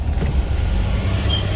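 A Dodge Omni engine idles steadily nearby, a low continuous rumble with a faint higher whine.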